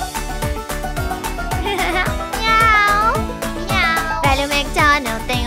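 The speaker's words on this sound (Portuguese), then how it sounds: "E na sua fazenda tem um gato, ia ia io. Com miau miau aqui" Cat meows ring out inside a lively children's farm song, several rising and falling calls over bouncy music with a steady beat.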